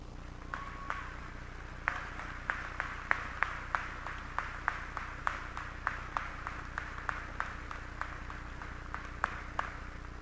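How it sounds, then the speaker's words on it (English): A graduation audience claps in a round of applause for future educators, the hand claps sounding steady and moderately distant, with sharp individual claps standing out over a continuous low hum. "would our future educators please stand and be recognized with a round of applause?"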